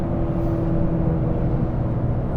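Turbocharged three-cylinder engine of a 2023 Toyota GR Corolla hot hatch, a steady deep low rumble and drone from inside the car while driving, continuous and fairly loud with no talk.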